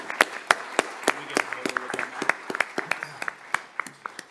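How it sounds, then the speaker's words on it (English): A city council meeting audience applauds in Yucaipa with a scattered burst of individual hand claps, close and uneven, as a few voices murmur underneath. "Let's give everyone a round of applause one more time"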